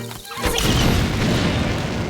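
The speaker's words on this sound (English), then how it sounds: "Hopefully you have some bombs on you. Place one in front of that doorway." A bomb goes off at a doorway in Link's Awakening, a single loud booming blast after a short quiet lead-in, its rumbling crash filling the rest of the moment before trailing off.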